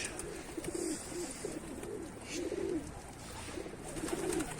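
Repeated calls from a seagull ring out at intervals over steady outdoor ambience, moderately near and unaccompanied by talk.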